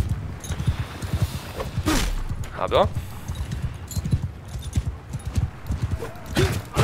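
Horse hooves clip-clop in a steady walking rhythm with a brief whinny, from the medieval battle video game Mount & Blade II: Bannerlord, heard close under someone talking in German.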